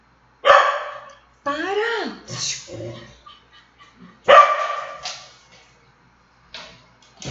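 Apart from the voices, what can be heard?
dogs barking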